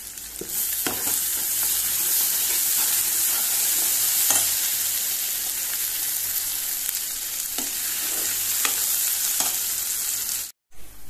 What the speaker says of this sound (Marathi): बरें फ्राय करपाचो कांदो टमाट लसूण आलें आतां हे बरें फ्राय करपाचें